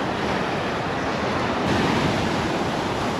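Sea waves wash steadily onto a beach shore, a loud continuous roar of surf with a slight swell midway, alone without any voices.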